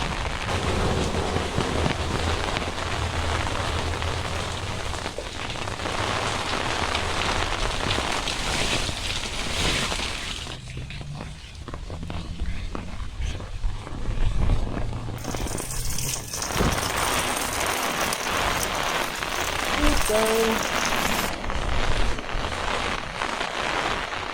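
Steady heavy rain from Tropical Storm Elsa falls outdoors in a dense continuous hiss for about twenty-four seconds, close and loud, with some shifts in intensity and no speech.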